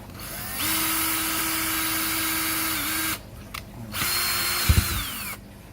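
A power drill bores holes through a DIY sponge filter, two steady whining bursts of about two and a half seconds and one and a half seconds, separated by a short pause, with some faint clunks near the end.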